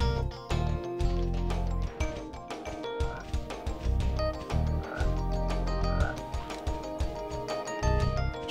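Frogs croak in the 1998 PS1 game Spyro the Dragon, loud, deep rhythmic croaks repeating in bursts over game music, with no talk.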